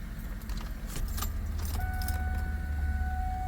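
Car keys jangle briefly up close inside a Ford Mustang GT that has sat dead for a couple of days, followed by a steady low hum and a thin electronic tone with no talking.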